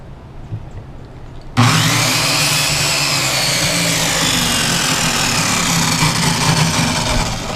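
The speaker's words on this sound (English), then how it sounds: "I love how the brake on that just stops the blade instantly." A power saw blade spins up abruptly after a short quiet lead-in and keeps whirring loudly and steadily to the end, during an air conditioner installation job.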